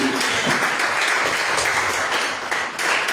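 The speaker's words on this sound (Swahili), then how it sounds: "Nampigia Bwana Yesu makofi." A church congregation at a Christian fellowship main service in Gikambura claps in praise of Jesus, a continuous dense wash of applause filling the room, loud and steady without a clear voice over it.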